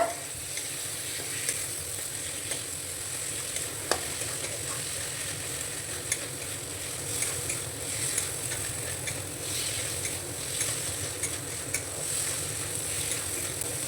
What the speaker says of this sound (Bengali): মশলার সঙ্গে মটরশুঁটি দিয়ে আমি একটু কষিয়ে নিলাম